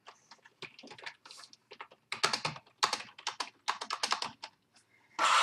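Keys clatter steadily on a Microsoft Media Keyboard 3000 with its feet flipped up on a desk, a close, crisp run of irregular keystrokes in bursts with short pauses, no voices.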